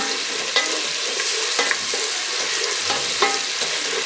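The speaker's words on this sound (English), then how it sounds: "the oil splatting everywhere" Onions frying in oil in a home kitchen pan, loud crackling sizzle with spattering pops and repeated stirring scrapes, close up and continuous, no speech.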